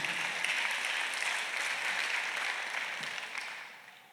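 A church congregation claps together during a Sunday worship service, a steady wash of many hands filling the room for about four seconds before tapering slightly at the end.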